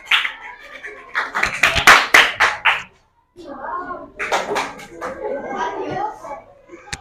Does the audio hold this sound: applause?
yes